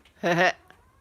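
A cat wanting to be let outside gives a single short, clear meow close by indoors, followed by quiet.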